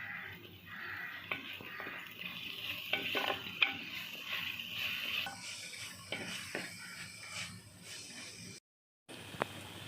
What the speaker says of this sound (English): Now fry them until it gets to brown color.